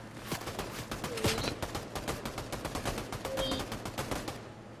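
Rapid automatic gunfire in the battle royale game Fortnite, a steady stream of sharp, evenly spaced shots at moderate volume, running almost the whole time.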